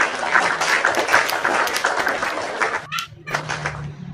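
Audience applause at an Islamic apologetics talk show, a steady wash of many hands clapping that carries on for several seconds, then thins out and trails off near the end.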